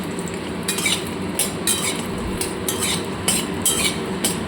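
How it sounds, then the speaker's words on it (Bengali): Bori lentil dumplings frying in hot oil for a potato and eggplant curry, a steady broad sizzle with repeated clinks of a utensil against the pan, close and fairly loud. "বড়িগুলো একটু লাল লাল করে ভেজে নেবো।"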